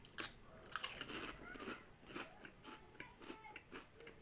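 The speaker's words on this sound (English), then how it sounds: "I'm just going to have a couple of crisps before I start." Crisps crunch between the teeth in a quick, close run of bites and chews, steady and fairly quiet with no talking.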